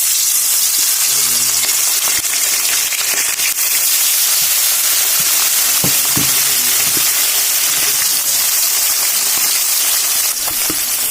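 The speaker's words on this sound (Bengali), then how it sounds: "তো এখন আমরা মাছগুলো ভেজে নেব।" Pieces of fish fry in hot oil in a wok, giving a loud, continuous crackling sizzle with scattered sharp spits and pops throughout, close up and with no talk.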